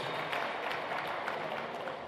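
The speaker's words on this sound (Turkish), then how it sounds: "Lütfen kendinizi bir alkışlayın bizim yerimize" An award ceremony audience at the Engelsiz Yaşam Vakfı 11th Best of the Year event applauds steadily, a dense, even wash of many hands clapping throughout.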